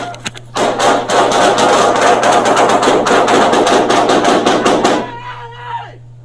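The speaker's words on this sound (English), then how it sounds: "And here's Officer Dugnow, who does fire his weapon." Police officer firing his weapon during an Albuquerque shooting, a loud rapid volley of many gunshots in quick succession lasting several seconds, then fading to a quieter tail.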